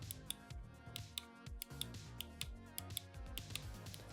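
Crisp, sharp clicks of ROG Keris II Ace gaming mouse buttons in a quick irregular series, close up, left and right buttons sounding slightly different, with a dull low thump under some presses; no voices.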